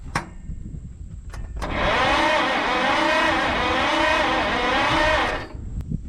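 Mack B30 bus engine cranking and catching, a loud, steady, rough roar lasting several seconds, bracketed by a few sharp clicks and quieter background noise before and after.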